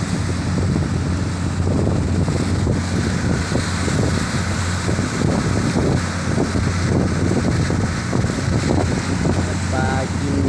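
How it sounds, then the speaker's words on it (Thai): A fishing boat heads home across rough, windy water in cold-season wind and waves, its engine drone steady and continuous beneath heavy wind buffeting and splashing throughout. "วิ่งเรือเข้าบ้านแล้วเนี่ย"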